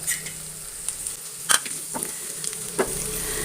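Fried tuna pieces are stirred into masala in a pan for a fish kalmas. A soft, steady sizzle carries several sharp scrapes and knocks of the spoon against the pan, with no talking.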